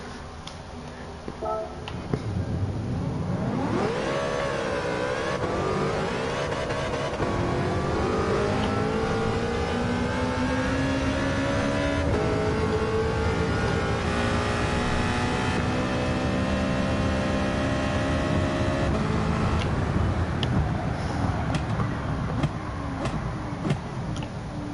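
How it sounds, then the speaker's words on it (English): A Chevrolet Corvette engine with an LS6 V8 in Gran Turismo 7 revs and climbs through its gears, loud and sustained, with the pitch rising and falling as it accelerates. "My God, this car sounds good."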